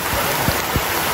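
Rain falls steadily outdoors at a work site as a loud, continuous hiss with a few low thumps of drops or movement, without speech.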